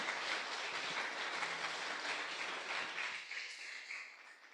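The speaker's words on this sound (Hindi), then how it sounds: "पुनः एक बार जोरदार तालियां" A Sunday congregation at Connect Church India applauds in a dense, steady wash of clapping that holds for a few seconds and then trails off.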